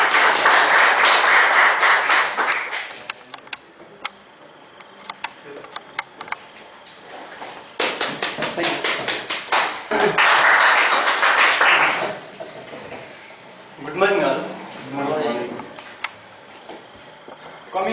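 Applause at a speakers' forum meeting, bursts of clapping that swell and fade in waves, dropping to a thinner patter between surges before rising again near the end.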